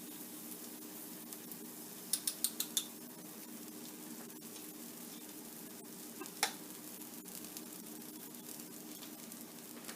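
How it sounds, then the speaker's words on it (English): Crumpet batter poured into a hot 8-inch non-stick pan gives a soft, steady sizzle over a low background hum, with a few brief clicks and ticks around the pan. "So add half of the batter into the pan."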